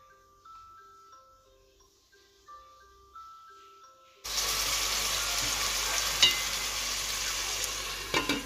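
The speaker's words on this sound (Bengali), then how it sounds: "আদা রসুনের পেস্ট দিলাম" After a short tinkling jingle, onions with ginger-garlic paste hit hot oil and fry with a loud, steady sizzle marked by an occasional scrape.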